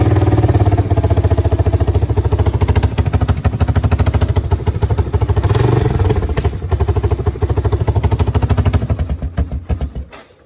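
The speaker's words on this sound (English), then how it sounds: "that, guys, is how you run a four-wheeler without a gas tank" Honda 300 four-wheeler engine running without its gas tank, a loud, close, rapid chattering idle with steady firing pulses that sputters and dies away near the end.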